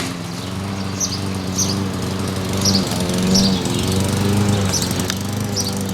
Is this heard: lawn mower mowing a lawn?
yes